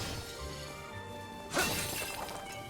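Objects shatter in the video game Trails Beyond the Horizon: one sharp breaking crash stands out over a faint steady game music bed, brief and fairly quiet.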